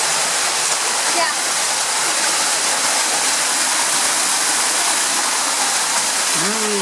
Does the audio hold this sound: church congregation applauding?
no